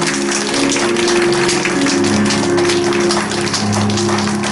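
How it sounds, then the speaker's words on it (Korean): Worshippers at a Korean church revival service applaud together, a steady, loud wash of clapping that holds evenly throughout with a sustained musical tone underneath. "예수님께 감사의 박수 올려드립시다"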